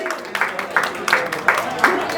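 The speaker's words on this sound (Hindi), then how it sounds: "जोरदार ताली।" Applause from a small gathering at a family event, a few people clapping in uneven bursts at moderate loudness, rhythmic and fairly close, with a voice in the background.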